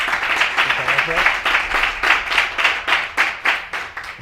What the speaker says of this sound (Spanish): Bueno, sí, un aplauso, efectivamente,